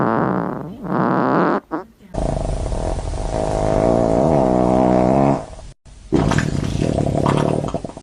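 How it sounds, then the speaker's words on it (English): Alternate farting sound effect: long, loud, rumbling blasts with a wobbling, sputtering buzz, broken by two brief silences, played alone without talk. "Time to preview the sound effect."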